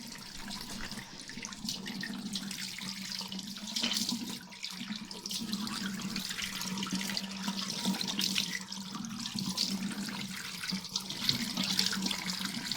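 Water runs steadily from a household tap into a sink, a continuous close hiss and splash with no speech over it.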